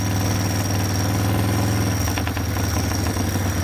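A Harley-Davidson FXR motorcycle idles with the throttle barely cracked, a steady, loud low-pitched rumble with a constant mechanical hum running unbroken from start to finish.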